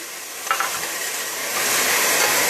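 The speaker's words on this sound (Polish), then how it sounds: "podsmaża cebulka oraz imbir" Chopped onion and ginger frying in a pan for a creamy pumpkin soup, with a brief clatter followed by a steady, close sizzle that swells slightly louder toward the end.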